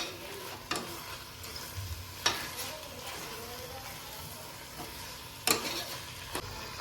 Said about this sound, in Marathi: आणि सगळं मिक्स करून घ्यायचं आहे